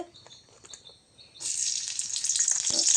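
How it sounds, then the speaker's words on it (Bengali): Chopped onions dropped into hot oil in a wok, quiet small clinks at first, then a sudden loud hiss of frying that stays steady and bright to the end. "পরিমাণ মতো তেল দিয়ে দেওয়া হয়ে গেলে এবার কেটে রাখা পেঁয়াজ কুচি দিয়ে নিব"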